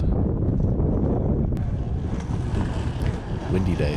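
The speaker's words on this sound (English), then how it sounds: "Windy day as usual." Steady, loud wind roars outdoors on a slope, with gusty buffeting against the microphone that runs continuously through the whole stretch.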